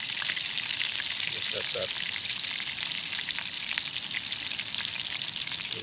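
Food simmers and sizzles in a pan on a Firebox camp stove at an overnight wild camp, a steady crackling hiss throughout, with someone speaking briefly over it.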